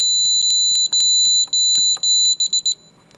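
A security alarm system keypad beeps in a fast, loud, piercing series of repeated tones, close by, then stops abruptly after a few final short beeps as it is disarmed.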